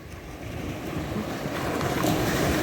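Waves washing onto the small beach of Tournemine, a steady broadband surf wash with wind noise, building slightly louder toward the end, no talking.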